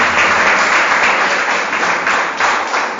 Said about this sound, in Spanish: Vamos a darle un aplauso al Eterno